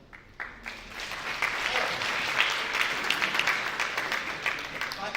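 An audience at a benefits-tool launch event applauds, the clapping building quickly into a full, steady wash of many hands that carries on to the end.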